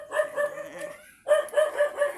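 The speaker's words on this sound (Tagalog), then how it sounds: "Ayan si Manok." A nearby rooster crows in two strained, pulsing bursts separated by a brief pause, loud and close with no talk over it.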